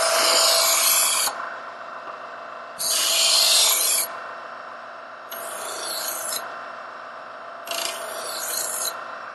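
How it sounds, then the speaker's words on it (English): A KitchenIQ 50353 angle-adjustable electric knife sharpener with interlocking wheels grinds a German-style knife blade in four separate rasping passes, two loud and two softer, over a steady motor whine. "we're ready for the German style knife"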